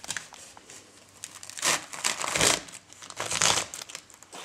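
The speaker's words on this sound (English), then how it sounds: "what I like to do is cut it in half first" Knife cutting an artichoke in half along the stem, giving a few close, crisp crunching and crackling bursts, each lasting under a second, with quiet pauses between them.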